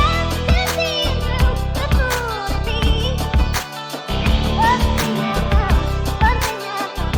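Hip-hop beat over a soul sample: a simple two-step hi-hat pattern with claps and punchy kicks, loud and rhythmic, looping over melodic sampled vocals and instruments.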